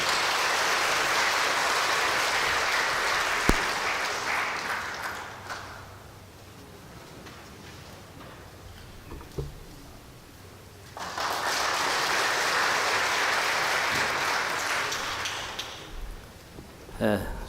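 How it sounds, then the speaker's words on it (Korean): Applause for a keynote speaker at a Jeju sustainability and balanced development forum, sustained clapping that fades into a quiet stretch with shuffling, then swells again in a second strong burst before dying away. "큰 박수 부탁드리겠습니다."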